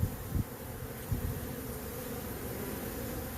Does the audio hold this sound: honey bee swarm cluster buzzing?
yes